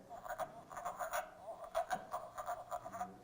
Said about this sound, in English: But those are called wood frogs.